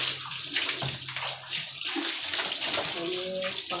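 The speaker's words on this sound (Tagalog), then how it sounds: "Kaya pangatlong beses ko na itong ligo ata." Steady water pouring from a shower onto a person bathing indoors, a continuous close splashing rush throughout with a voice faintly heard under it.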